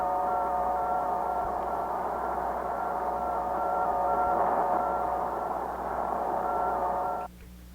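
Two alternating tones from the Explorer 1 satellite radio transmission trade places over a constant hiss, each tone lasting a varying length, before the signal cuts off abruptly near the end.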